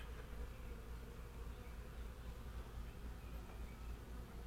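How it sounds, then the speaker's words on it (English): A big swarm of honey bees fighting, a dense continuous buzzing drone, faint and steady throughout, with no voices. "These bees are fighting, and there's nothing to fight for."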